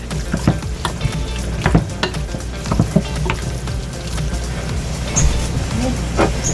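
Chicken wings fry in a pan, a loud continuous sizzle broken by repeated clattering bumps and scrapes as the pieces are flipped and moved around.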